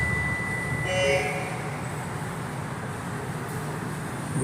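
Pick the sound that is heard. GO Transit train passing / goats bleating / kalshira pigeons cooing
GO Transit train passing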